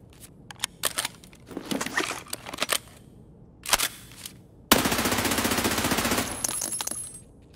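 Automatic gunfire from Escape From Tarkov cracks out in several short bursts, then one sustained rapid volley near the end, loud and close.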